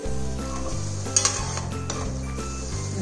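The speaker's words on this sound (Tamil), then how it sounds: "போட்டு மசாலா போட்டு நல்லா கொஞ்சம் வாசனை உள்ள வரைக்கும் வதக்கணும்." Ground masala sizzles and fries in a pan for a Thanjavur-style chicken gravy, with a steady close sizzle and a few metal clinks of stirring.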